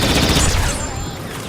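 A CR2 blaster in Star Wars Battlefront 2 fires a rapid burst of punchy shots, dense and loud at close range, tapering slightly over about a second and a half.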